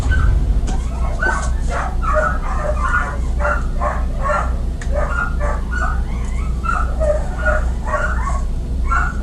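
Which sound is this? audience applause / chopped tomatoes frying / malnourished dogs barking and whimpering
malnourished dogs barking and whimpering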